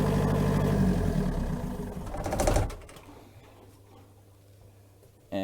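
The port engine of an Endurance 650 boat idles inside its engine room, a steady close mechanical rumble with a rapid ticking rhythm that drops off sharply midway, leaving a faint low hum before a brief loud burst at the end.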